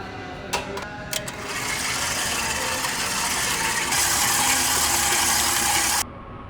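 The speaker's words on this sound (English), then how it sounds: "now I am going to add the paddle attachment back into it and just let those two things mix all the way together" A stand mixer with a paddle attachment whirs and rattles steadily through ricotta cannoli filling, beginning with a few clicks and knocks before settling into a continuous mechanical hum that stops abruptly near the end.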